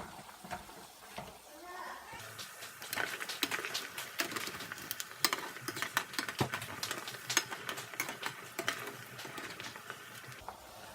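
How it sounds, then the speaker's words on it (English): Shrimp paste sizzles as it fries crispy in a pan beside eggplant, with a steady crackle and a quick run of sharp clicks and scrapes from stirring, close and fairly loud. "Make sure you stir it, that means it doesn't stick to the pan."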